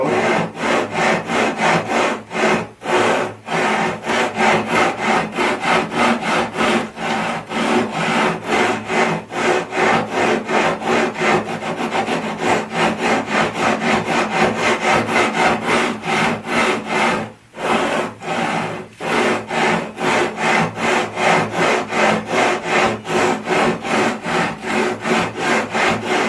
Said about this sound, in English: Take a straight edge and put some sandpaper on it and just